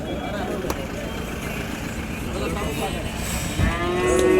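Calves and cattle mooing at a native cattle market, low drawn-out lows rising over a steady crowd murmur and an idling engine, with a louder moo near the end and people talking nearby.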